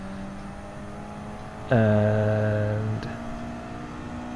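Car in Gran Turismo 7 at the Red Bull Ring comes back on the throttle, its engine note jumping to a loud steady drone for about a second before cutting back to a low hum.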